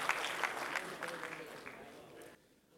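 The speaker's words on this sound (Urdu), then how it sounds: "اپنی زوردار تالیوں کے ساتھ۔" Audience applause greets a poet coming on stage at an Urdu literary gathering in Qatar. The clapping is moderate and mixed with a voice, then fades out near the end.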